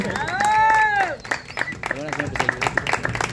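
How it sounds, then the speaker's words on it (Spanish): Birthday party applause with a mariachi band present: a crowd claps in scattered bursts after a loud, drawn-out vocal cry, with voices mixed in throughout. "Que suene bien bonito ese aplauso."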